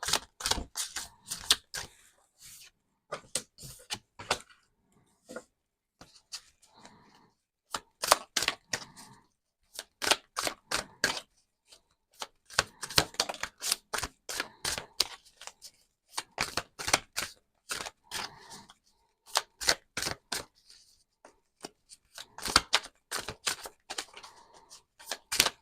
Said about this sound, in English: If you're not going to give me just one at a time, I'm going to split the deck.